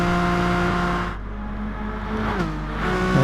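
Touring cars in a racing video game roar down the straight and hill out of the mountain section at Bathurst, engines droning loudly with a steady tone that dips as a car passes, then climbs again as another surges through.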